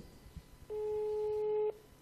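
A telephone rings out over speakerphone during a live sports radio broadcast, one long steady electronic tone lasting about a second after some faint background noise.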